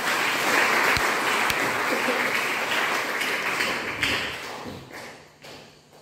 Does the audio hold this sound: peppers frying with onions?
no